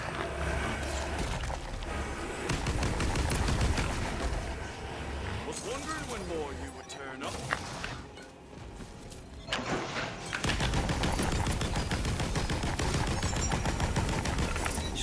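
Rapid automatic gunfire rattles almost continuously in co-op play of Tiny Tina's Wonderlands on PS5, loud and dense with brief lulls and a quieter gap midway before the shooting resumes.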